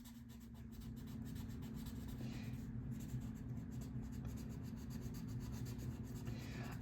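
A paper blending stump smears pencil lines on a drawing, giving a steady soft rubbing and scratching against paper that runs continuously and close, with no talking.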